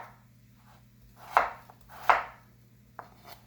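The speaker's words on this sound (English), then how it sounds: "So I just cut my tomatoes into large chunks" A knife chops frozen tomatoes into large chunks on a cutting board, two sharp, close thuds about a second apart followed by a lighter tap over a faint steady hum.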